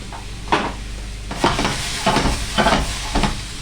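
Mushrooms hit a hot pan with broccoli florets for a spring green stir fry, sizzling loudly with bursts of frying and stirring scrapes repeating every second or so, close and without talk.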